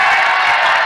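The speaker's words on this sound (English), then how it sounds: "Crowd's loud." Loud, continuous crowd cheering and roar at a high school boys basketball game in the closing seconds, a dense wash of voices without pauses.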